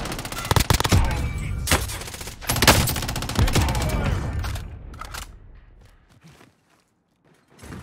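Rapid bursts of automatic gunfire in Call of Duty: Warzone, loud and close, crackling through the first half before fading to quiet, with players talking over the shooting.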